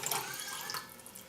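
A brief, soft splash of water running into a container, faint and close, with no voices.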